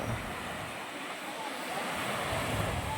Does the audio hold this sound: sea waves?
yes